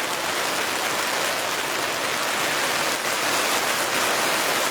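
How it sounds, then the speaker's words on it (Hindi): Heavy rain pours down hard and steadily, a dense loud hiss of drops drumming on surfaces with no breaks, unaccompanied by any voices. "आज तो भैया बरसात हो रही है बहुत तेज।"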